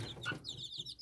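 Small clucks and soft calls from dwarf Cochin broody hens with their chicks, a few short near-field clucks followed by a run of high, thin cheeping chirps.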